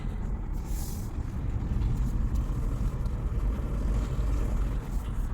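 A Kia EV6 electric car takes a curve, heard from inside as a steady low road rumble and tire noise with a faint hum and no talking.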